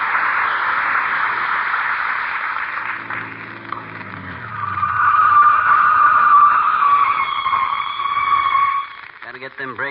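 A radio-show sound effect of car tires skidding under braking, a long, loud screech that swells midway and holds for several seconds, with a faint horn-like tone at the start and a brief voice near the end.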